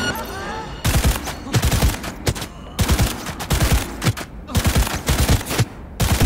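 Dense gunfire from Cyberpunk 2077 rattles out in rapid bursts of sharp, loud close-range shots, nearly continuous with brief pauses, and a voice talks lightly underneath.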